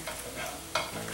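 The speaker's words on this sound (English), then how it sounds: "you can generally do that while your vegetables are sauteing" Vegetables sauté in a pan for a frittata, a continuous close frying sizzle with a sharper scrape or crackle partway through.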